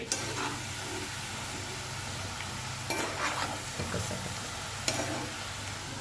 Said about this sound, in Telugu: ఆవాలు మెంతులు వేపుకుంటున్నాము